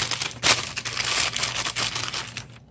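A wax paper bag handled up close, giving steady crinkling and rustling with a sharp crackle near the start, continuing in small bursts until it stops abruptly.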